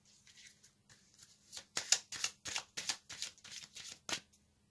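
Tarot cards shuffled and riffled by hand before an extra card is drawn, a quick run of close, crisp flicking bursts alone with no talk.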